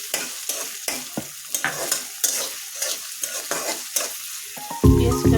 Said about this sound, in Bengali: ভালোভাবে নেড়ে নিচ্ছি।